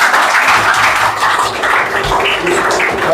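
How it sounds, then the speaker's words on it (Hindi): An audience claps steadily for a student named Aayush at a school results celebration, dense continuous applause throughout. "आयुष के लिए जोरदार तालियां बजाओ भैया।"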